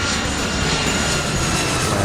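Jet airliner engine in Airport Madness 3 roaring loud and steady as it speeds up for takeoff, a dense continuous rumble with no talk over it.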